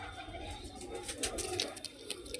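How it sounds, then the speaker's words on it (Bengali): Pure Punjabi breed pigeons coo softly in a low, murmuring flock sound, with faint chirps and a few rustling bursts. No one talks. "7টি পায়রা আছে, টোটাল 7টি পায়রা আছে।"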